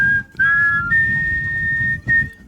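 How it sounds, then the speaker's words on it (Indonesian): A person whistles a few sustained, fairly loud tones in short bursts with brief gaps between them, close to the microphone, with no other sounds. "Itu namanya siul doang."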